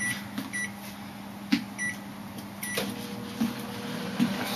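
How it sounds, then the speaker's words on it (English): A strange-sounding household microwave oven runs with a steady low hum, punctuated by a few faint clicks and thumps, heard close up with no talking. "And that's Whirly, our very strange microwave."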